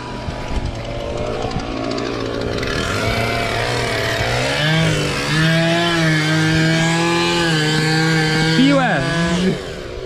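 Chainsaw on a roof-building site cutting timber, its engine revving loudly and rising in pitch as it bites, close by with brief shouted talk from the crew.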